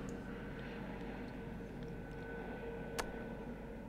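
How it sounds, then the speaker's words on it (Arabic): A distant airplane passes overhead with a faint, steady engine drone behind a quiet lecture room. The sound holds level throughout, with a single sharp tick near the end. "طيارة"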